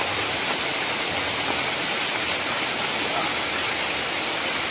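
Steady rain pours over a rice paddy on Lombok where water spinach is being harvested, a dense continuous hiss filling the scene without pause, no speech.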